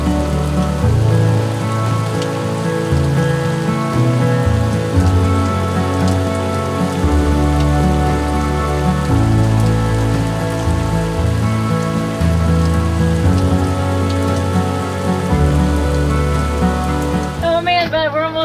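Rain falls steadily during a storm, a dense continuous patter on surfaces that holds loud and even throughout, alone with no voices.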